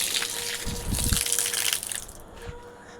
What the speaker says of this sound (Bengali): তো দেখো আমি কলের পাড়ে এসে পড়েছি, এবার পাটা ফটাফট ধুবো